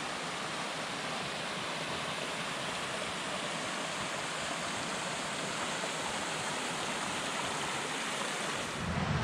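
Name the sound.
mountain stream flowing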